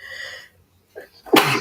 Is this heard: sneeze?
yes